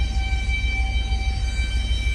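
A train passes near a mountain sanatorium at Hirska Tysa, a steady low rumble with faint sustained tones above it, heard without talk.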